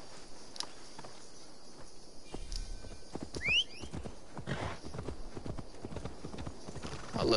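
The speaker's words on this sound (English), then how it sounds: "I'll let the horse take me there." Horse hooves clip-clop steadily at a walking pace in the video game Assassin's Creed Valhalla. The footfalls are moderately close over a faint outdoor ambience with crickets.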